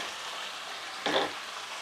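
Onions and green chilies frying in desi ghee give a soft, continuous sizzle up close, with a brief louder burst of crackle midway as the pan is stirred.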